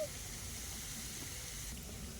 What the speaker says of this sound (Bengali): একটু আলুটাকে একটু হলুদ দিয়ে ভাজছি।